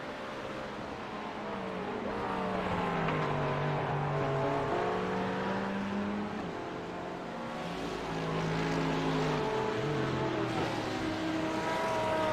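GT3 race cars roar through the final section of the Road Atlanta circuit, several engines overlapping in a loud, sustained drone with rising and falling pitch as they pass and shift, no talk over it.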